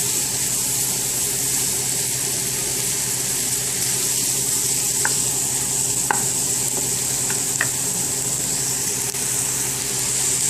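Ground beef with carrots and peas frying in butter in a pan, a loud continuous sizzle with occasional faint clinks of a utensil stirring, no talking.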